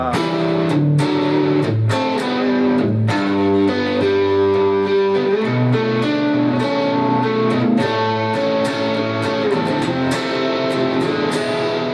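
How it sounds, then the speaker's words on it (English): An electric guitar played through a medium overdrive pedal turned up from a light setting rings out in loud, sustained notes and chords with a gritty edge, heard alone without talk. "So this is a medium overdrive sound, I would call"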